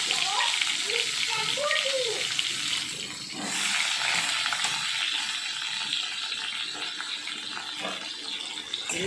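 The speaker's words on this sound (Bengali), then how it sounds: "কড়াতে তেল দিয়ে দিয়েছি তেলটা গরম হয়ে গেছে এবার কেটে রাখা পটল দিয়ে দিচ্ছি" Sliced pointed gourd dropped into hot oil in a wok, giving a loud, continuous hissing sizzle that stays steady throughout, with a brief swell partway through.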